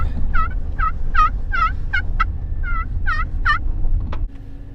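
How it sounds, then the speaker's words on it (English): A turkey gobbles in a quick series of about nine warbling calls, fairly close, over a low rumbling background that cuts off near the end. "You're scaring the turkeys away."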